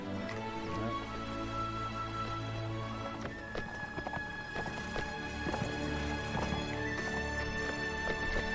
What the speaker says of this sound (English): So Gandalf is growing magical horses out of the ground.